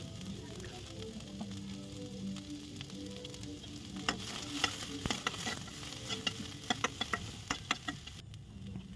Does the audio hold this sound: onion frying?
yes